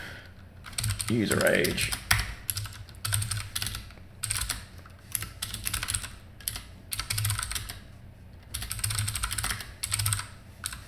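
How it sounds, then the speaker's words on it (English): Bursts of quick clattering keystrokes as code is typed on a computer keyboard, coming in rhythmic clusters separated by short pauses, close and fairly loud, with a brief spoken phrase early on. "Now I'm going to type it out and then we're going to go through it."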